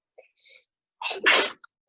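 During a portrait drawing class, a person gives a single sharp, loud sneeze close by, preceded by a few faint breaths and a quick inhale, in an otherwise quiet room.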